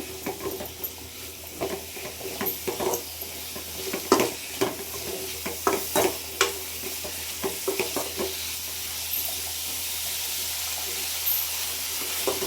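Garlic sizzling in hot oil in a pan for a Karnataka-style egg curry, with a steady frying hiss and a run of clicking stirs and scrapes in the middle that fade back into the sizzle.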